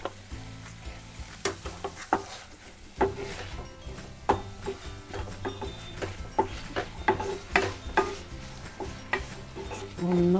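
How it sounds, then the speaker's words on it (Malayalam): Egg being stirred into fried rice in a hot pan, with a constant sizzle under repeated sharp scrapes and knocks of a spatula that keep an irregular rhythm, close and moderately loud throughout. "നന്നായിട്ടൊന്ന് ഇളക്കി കൊടുക്കുക."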